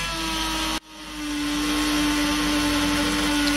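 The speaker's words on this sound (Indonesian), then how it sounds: "Dan bisa ya buat ngelubangin akrilik." Hyderson GoGonova 4V three-speed battery mini drill boring into 5 mm acrylic sheet: a steady high whine that drops sharply for a moment as the bit catches, then climbs back and runs on, close and continuous.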